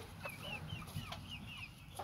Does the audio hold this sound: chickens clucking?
yes